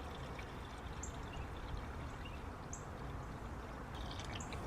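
Coolant poured into the cooling system of a 2001 Toyota Camry during a water bypass pipe repair, a steady low gurgling pour that runs without a break throughout, with faint bird chirps far off.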